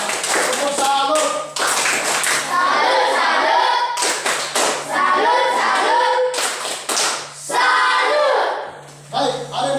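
A classroom of students breaks into bursts of lively hand clapping, several rounds of crisp applause separated by brief pauses, with voices audible between the bursts.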